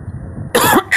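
A maritaca parakeet imitates a cough: after a quiet moment, a close, harsh raspy cough-like burst followed by a shorter second one, loud and alone.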